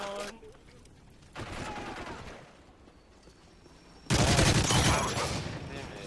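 Heavy gunfire bursts in Carbon, a competitive shooter match on Domination mode, rattling out in loud rapid volleys, with a big sustained burst near the end and voices talking over parts of the fighting.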